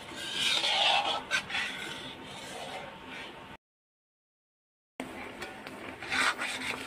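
A spoon scrapes and rubs steadily through a thickening butterscotch ice cream mixture in a pan, with soft rhythmic strokes that break off for a moment of silence, then resume.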